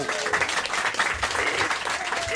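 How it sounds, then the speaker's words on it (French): A studio audience on a French radio comedy show applauding a guest's arrival, a steady patter of many hands clapping at close range with faint voices beneath. "on applaudit l'arrivée de Titoff"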